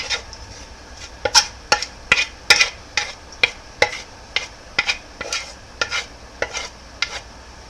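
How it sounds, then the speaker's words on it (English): Dry curd cottage cheese is mixed into a bowl of flour with rhythmic scraping strokes, about twenty sharp, evenly spaced swishes close up, with no voices. "I'm just going to mix that into the flour."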